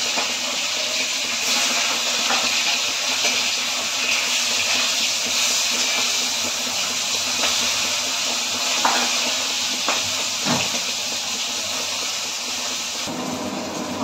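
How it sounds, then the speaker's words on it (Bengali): A hilsa fish head frying in hot oil, giving a steady, close, continuous sizzle and hiss that holds evenly throughout with no talking. "এবার আমি মাছের মাথাটা এর মধ্যে ভেজে নেব।"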